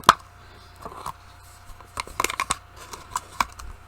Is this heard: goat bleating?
no